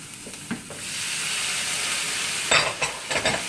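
Pear pieces cooking in a hot pan for a squash stuffing, giving a steady close sizzle broken by a few scraping stirs.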